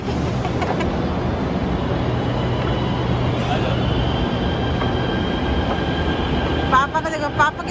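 Continuous rumble and rattle of a metro train in motion, with a steady roar throughout and a few brief squeals near the end.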